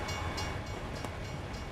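Train passing a railroad crossing in a truck driving video game, a steady loud rumble of rolling wagons with faint rhythmic clatter throughout, no voices.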